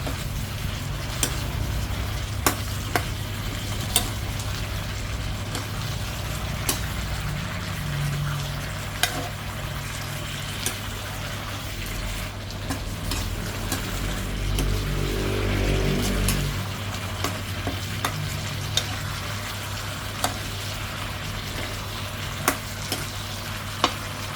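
Spicy pork with boiled bamboo shoots stir-fries in a pan, giving a continuous close sizzle with scattered clicks and scrapes from the stirring utensil throughout, without talk.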